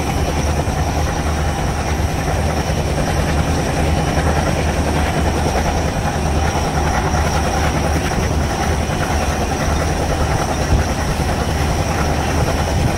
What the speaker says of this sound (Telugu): ఆ ట్రైన్ 100లో వెళ్తుంది.